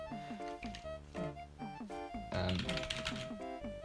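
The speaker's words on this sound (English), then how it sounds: "I'm just gonna type some very random stuff here" Someone types random text on a computer keyboard at a Raspbian desktop, making quiet, irregular bursts of clicking. A voice can be heard along with the keystrokes.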